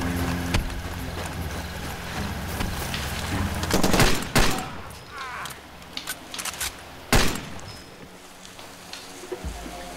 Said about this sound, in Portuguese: Agora sim essa arma atira onde eu miro